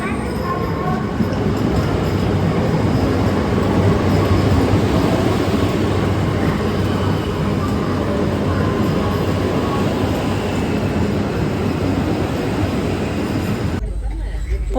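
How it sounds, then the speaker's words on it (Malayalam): A train pulling into Kottayam station in Kerala gives a loud, continuous rumble of rolling wheels and carriages that holds steady and close for the whole stretch before cutting off abruptly, with voices faint beneath it. "നമ്മുടെ ട്രെയിൻ വരുന്നുണ്ട്."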